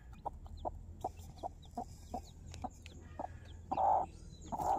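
A hen clucks softly in a steady run of short, evenly spaced calls close by, while her chicks peck at scattered feed, with a couple of louder squawking bursts near the end.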